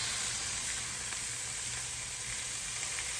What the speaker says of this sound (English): So these steaks have been cooking for about 5 minutes on the first side here